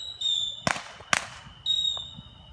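Independence Day fireworks in the United States go off with high whistling rockets and two sharp, fairly distant bangs in quick succession, followed by another whistle.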